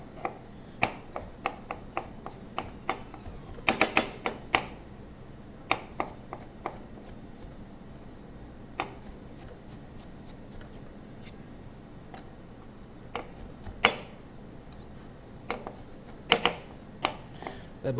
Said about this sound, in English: for the butternut squash, it can be just rough chopped.